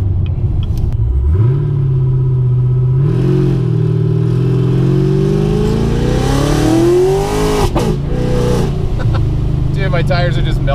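A ProCharger P-1SC-1 supercharged 4.6 car pulls hard in second gear with its tires spinning. The engine note climbs loud and close in rising sweeps, then drops and surges again with a whining edge.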